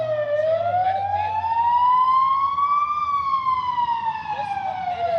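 A fire engine siren wails past in the street, one long rising then falling sweep, loud and close, with a low engine hum beneath and no talking.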